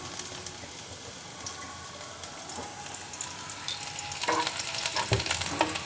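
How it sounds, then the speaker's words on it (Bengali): Chopped garlic frying in a little oil over medium-low flame for restaurant-style gobi manchurian, a steady close sizzle with occasional stirring scrapes that grow busier and louder toward the end. "এখন আমি এর মধ্যে দিয়ে দেব রসুন কুচি। আঁচটাকে আমি মিডিয়াম টু লো ফ্লেমে রাখবো।"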